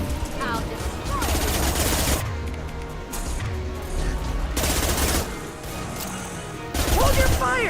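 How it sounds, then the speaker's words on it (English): Gunfire from the video game Mass Effect 2, with dense bursts of shots and crashing impacts in a loud, chaotic combat mix, and voices speaking among the noise. "Hold your fire, Shepard!"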